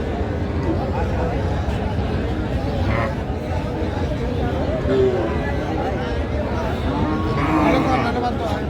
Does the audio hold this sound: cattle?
yes